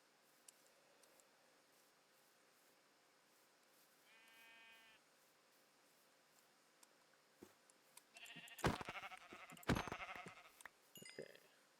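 Sheep in the Minecraft modpack GregTech: New Horizons give a short wavering bleat amid quiet game ambience, followed later by a burst of sharp clicks and clatter up close.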